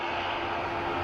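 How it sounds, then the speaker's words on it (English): An ATR turboprop taxis at Dublin Airport, its engine producing a steady, broadband drone with a hum underneath that holds even and fairly loud throughout. "ATR coming all the way down to Sierra 5, second one of the day, which is unusual for these little aircrafts."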